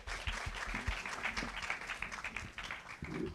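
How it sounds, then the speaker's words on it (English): Audience applause for a team after a language-app presentation, a fairly quiet room of scattered clapping with some low thumps and faint voices underneath. "Another round of applause for this team."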